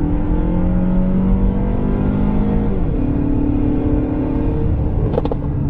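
A 2021 Mazda3 sedan with 186 horsepower pulls away under light throttle, its engine a steady, close drone that climbs gently in pitch, with no talk over it.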